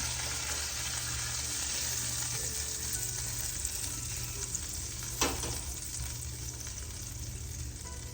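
Tri-tip steak sears in a hot pan with a steady, close sizzle and faint stirring noise throughout, plus one brief sharp click near the end.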